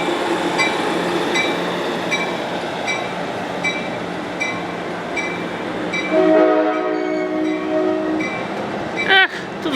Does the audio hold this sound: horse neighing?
no